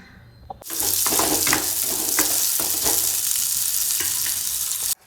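Ten small shallots are sautéed in a pan, a loud sizzle that bursts in abruptly, holds steady with repeated crackles and stir scrapes, then cuts off sharply near the end.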